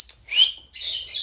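A parrot, kept among macaws and conures, gives two rising whistled chirps and then a stretch of harsher chattering tweets, close and fairly loud with no talk over it.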